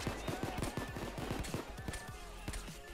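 Rapid gunfire in the video game PayDay 2 comes as dense bursts of sharp shots, with a few scattered shots at the end, loud and close over a busy game background.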